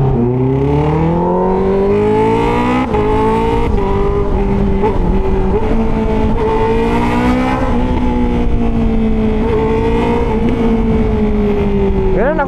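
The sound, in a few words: Honda CB650R motorcycle shifting gears with quick shifter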